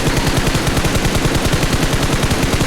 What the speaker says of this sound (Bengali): প্রতিটা টার্গেটে এভাবে করে ফায়ার দিবে